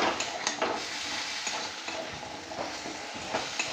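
Ridge gourd and potato are stirred and sautéed in a pan: a dense close sizzle with quick, repeated scraping strokes of a spatula throughout.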